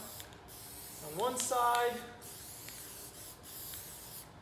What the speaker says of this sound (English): And so I just sort of spray it down